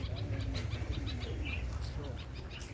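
Pigeons kept in a farmhouse garden coo softly among scattered bird chirps, set against a steady low background rumble.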